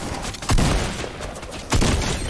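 Video game gunfire aimed at a wall, loud close bursts of rapid shots, two main volleys separated by a brief lull.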